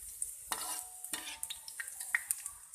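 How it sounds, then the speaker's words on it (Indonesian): Sliced shallots sizzle steadily in oil in a pan while a utensil stirs and scrapes in a few sharp strokes, close by. "Kita aduk bolak-balik bawang merahnya ya."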